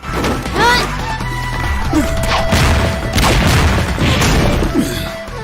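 In a cartoon fight, sand smashes up the ground with loud, dense crashes and booming impacts over a continuous rumbling roar, mixed with whooshes and effects throughout.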